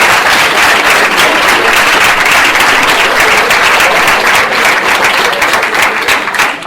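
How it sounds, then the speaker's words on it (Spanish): Strong applause from a lecture audience at a talk on the long-eared owl, a dense, continuous roar of clapping hands that holds loud and steady throughout before easing slightly at the end. "pues le damos un fuerte aplauso"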